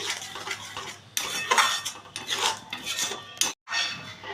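A spoon stirs a yogurt mixture in a pan in quick scraping strokes, uneven bursts of metallic rubbing with a short pause near the end.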